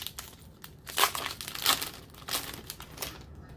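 Foil booster pack of Pokémon trading cards ripped open by hand, a run of close, crisp crinkling and tearing bursts with no talk.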